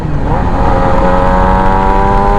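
A 2017-2021 Yamaha YZF R6 Raven sport bike engine held at a steady, loud high rev near half throttle, droning continuously with layered harmonic whine and no pauses.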